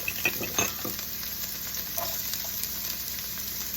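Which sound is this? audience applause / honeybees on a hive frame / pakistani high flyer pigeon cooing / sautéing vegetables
sautéing vegetables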